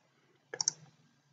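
A computer mouse gives a quick double click, two sharp close ticks in a quiet room, with nothing else audible around them.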